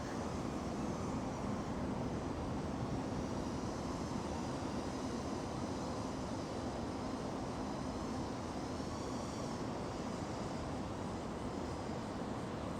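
A FlyWoo Fly Lens 85 FPV drone flies on heavy throttle, its faint, high, wavering motor whine sitting over a constant broad outdoor rush throughout.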